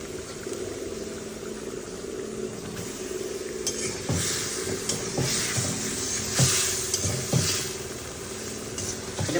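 Fish sautés in a pan with cumin and onion ahead of a sweet pumpkin curry, a dense, loud, continuous sizzle broken by repeated spatula scrapes and clatters against the pan.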